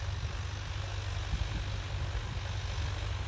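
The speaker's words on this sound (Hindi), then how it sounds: "और भाई ट्रैक्टर चल रहा है 4 किलो में" Mahindra 595 Turbo tractor engine running steadily at about 1500 rpm while pulling a nine-tine tiller through grassy soil, a continuous low droning rumble close by with no speech.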